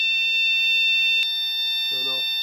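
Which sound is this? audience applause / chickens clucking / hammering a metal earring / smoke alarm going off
smoke alarm going off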